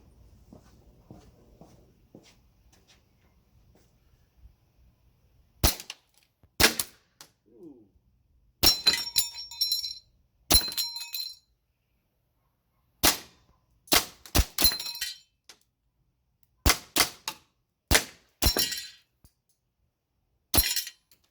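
Shots from a G&G SMC 9 gas blowback airsoft gun fired at a 10-meter target: about a dozen sharp, loud cracks in irregular bursts of two or three, separated by brief quiet gaps, with faint handling noise early on.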